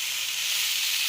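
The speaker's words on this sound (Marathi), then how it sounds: "असं भाजून घ्या चांगलं। त्याचा कलर चेंज होईपर्यंत भाजून घ्या चांगलं।" Tomatoes roasting in a pan on the stove for tomato chutney, giving a steady soft hiss and sizzle that stays even and close throughout, with no talk.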